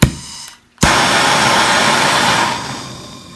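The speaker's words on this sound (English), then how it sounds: "I'll just spark up this torch here." A small torch ignites with a sharp pop after a brief hush, then burns with a steady, close, loud roaring hiss that eases slightly toward the end, used on low flame to heat shrink tubing.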